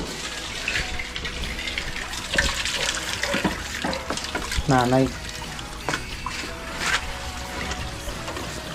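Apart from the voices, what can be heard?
water gushing from a Jetmatic hand pump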